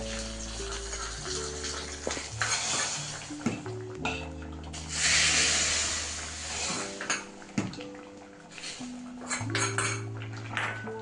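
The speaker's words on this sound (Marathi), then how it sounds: "आतां हांव फोडणें घालता आसा." Hot tempering with curry leaves goes into Konkani kuvale sasam, a bright crackling spatter bursting up mid-way amid clinking pots, spoons and kitchen clatter, with a low music bed underneath.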